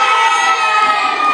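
A group of young campers shouting and cheering with joy at an archery range, a loud, dense burst of many children's voices close by.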